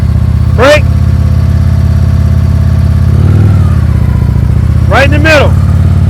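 A motorcycle engine idles and lugs at slow speed under clutch and throttle control while dragging the brake, a steady low drone with two brief rising revs near the start and end.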